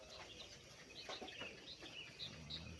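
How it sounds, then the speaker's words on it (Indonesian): Faint birds chirp and call repeatedly in short, scattered bursts against a quiet village morning background, including a few clucking notes. "suara burung-burung berkicau itu"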